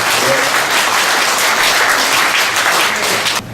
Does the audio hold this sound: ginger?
no